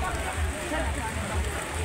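Steady rain hisses and patters throughout at a crowded hilltop temple at Jotiba, Wadi Ratnagiri, with a voice talking over it.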